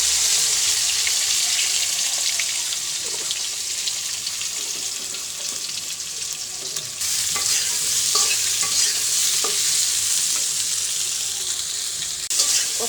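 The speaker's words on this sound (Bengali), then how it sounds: "তেল দিয়ে জিরাটা দিয়ে দিচ্ছি, এখন আনাজটা দিয়ে দিব" Vegetables hit hot oil seasoned with cumin and turmeric, giving a loud, continuous sizzle and hiss close by, broken by brief clinks and scrapes of stirring, with no one talking.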